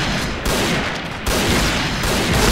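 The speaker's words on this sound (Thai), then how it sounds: "นี่โผล่มายิงนะครับ" Gunfire in the online shooter Point Blank: loud, dense automatic fire close up, a continuous rattling stream of shots with brief breaks in the bursts, no talk.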